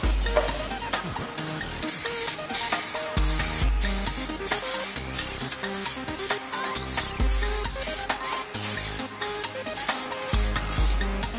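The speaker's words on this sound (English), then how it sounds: "you spray from a distance of around 20 to 30 centimeters from the mold" A spray can hissing coating onto a split mould for prepreg carbon fibre parts, from 20 to 30 centimetres away, in a dozen or so sharp short bursts with brief pauses and a low background hum between them.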